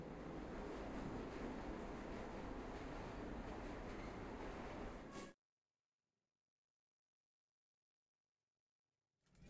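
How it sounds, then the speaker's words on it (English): Train in the Luna Abyss video game rolling in at the end of the line: a steady, loud rumbling roar that cuts off abruptly into silence, then a faint swell returns at the very end. "We have reached the end of the line where this train will terminate."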